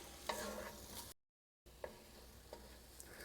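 Onions softening in a pot, stirred with a utensil over a soft, steady sizzle; a few light scrapes and taps stand out, with a brief silent gap midway.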